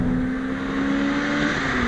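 A 2ZZ-swapped Toyota MR2 Spyder with a 5-speed manual gearbox accelerates hard, its engine a loud, close, sustained drone with a strong tone that wavers slightly in pitch.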